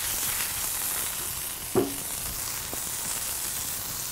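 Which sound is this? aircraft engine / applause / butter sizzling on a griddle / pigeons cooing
butter sizzling on a griddle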